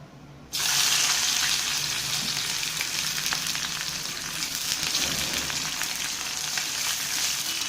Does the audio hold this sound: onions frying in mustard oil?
yes